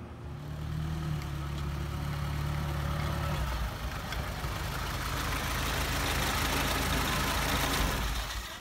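A 1943 Willys MB jeep engine idles steadily nearby, a low rumbling drone that holds unbroken throughout with no voices.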